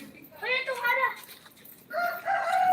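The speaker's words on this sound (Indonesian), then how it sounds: "Tuh ayam tuh." A chicken crows twice in short harmonic bursts during a chase where a costumed ondel-ondel figure tries to catch it, moderately close with background noise between calls.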